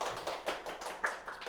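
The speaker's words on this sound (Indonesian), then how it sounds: "Luar biasa, tepuk tangan." A studio audience applauds at a talk show, a short burst of clapping of moderate loudness with uneven slaps and no voices over it.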